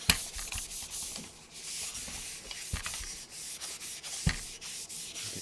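A Saturn 2 resin printer flex plate is wiped clean with alcohol, giving soft, close rubbing strokes in a steady back-and-forth rhythm with a few sharper scuffs.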